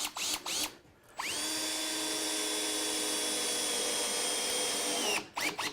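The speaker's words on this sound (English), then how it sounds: "We're doing that with a normal drill." A power drill drives a GRK RSS structural screw into wood, a loud steady whine held for about four seconds between brief, short bursts of the motor.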